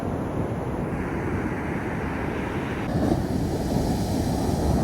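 Ocean waves break on a shore where a sea lion is nearby, a steady rushing surf with wind noise that swells a little louder toward the end.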